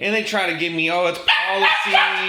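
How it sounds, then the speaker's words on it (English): A pet dog barks and yelps repeatedly inside a house, the sharp barks recurring throughout and layered close under someone talking over a phone call. "That's my dog barking."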